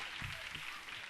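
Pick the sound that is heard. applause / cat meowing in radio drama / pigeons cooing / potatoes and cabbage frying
applause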